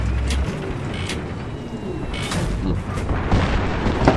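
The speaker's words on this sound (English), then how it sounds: "bombed here by mobile artillery" Mobile artillery bombardment in Battlefield 3, with heavy booming explosions and rumbling blasts over dense battlefield noise, several bursts landing close and loud one after another.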